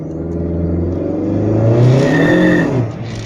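A Honda Accord 2.0T with a stage 2 turbo pulls hard at full throttle in second gear, its engine note climbing loud and close for a few seconds before easing off.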